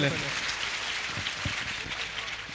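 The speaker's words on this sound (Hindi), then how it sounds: "एक बार जोरदार तालियां हो जाए सबसे पहले" Audience applause at a school conclave session, a steady wash of many hands clapping through the whole stretch, with a few deeper thumps and a voice faintly present underneath.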